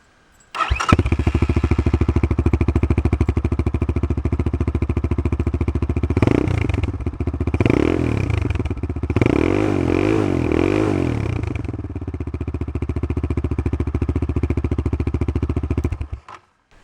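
An Apollo 250 RX motorcycle engine starts and runs for about fifteen seconds, a close, loud, rattly single-cylinder chug with a few blips of throttle that rise and fall in pitch, no voices over it.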